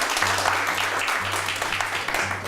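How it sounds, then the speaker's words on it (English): Sustained applause from an audience at a business networking chapter meeting, steady dense clapping held at an even level throughout, with a faint low hum underneath. "let's get another round of applause."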